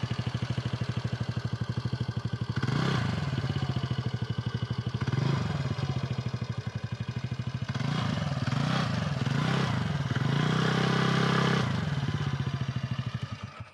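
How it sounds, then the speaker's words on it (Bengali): A TVS Ntorq scooter's exhaust burbles at close range, idling roughly before rising in several throttle blips and revs, with a steady low engine thrum throughout. "আমার এল ড্রাগোর একটু এক্সজস্টের সাউন্ডটাও শুনে দিই।"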